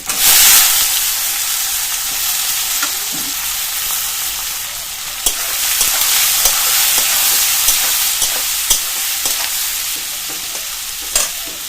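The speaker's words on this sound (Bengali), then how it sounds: "পেঁয়াজটা নাড়াচাড়া করে হালকা লাল করে ভেজে নেব।" Chopped onions sizzle and hiss loudly in hot oil with garlic, cardamom and cinnamon for a desi chicken curry, while a spatula scrapes and clacks against the pan in scattered knocks throughout.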